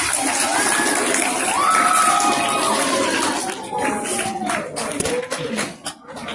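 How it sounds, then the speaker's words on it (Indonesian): Students at a school religious assembly clapping and cheering, a loud crowd roar with shouting voices and scattered claps that gradually thins out, leaving a few sharp claps near the end. "Tepuk tangan dulu."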